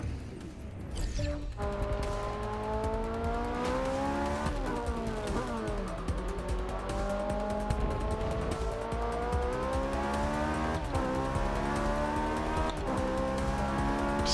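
A Ferrari 458 Speciale laps Spa-Francorchamps in a racing game, its engine screaming continuously with repeated sharp gear shifts and rising revs, plus a brief tire squeal near the start.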